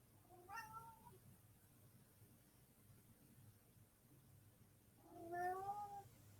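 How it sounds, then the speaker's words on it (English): Two short cat meows, one early and one near the end, faint against quiet background hiss. "If you hear meowing, that's my cat."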